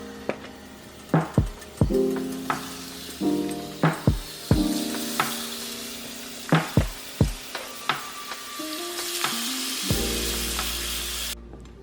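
Seasoned food with fresh garlic sizzles steadily on a stovetop, with a run of sharp clacks and taps from handling the pan, then a sudden cutoff near the end.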